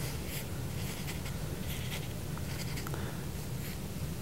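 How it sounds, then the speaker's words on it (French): A pen scratches out a single letter on a small piece of paper, a few quiet close strokes and taps over a soft background hum. "J'ai un petit bout de papier ici. Je vais écrire une lettre de l'alphabet."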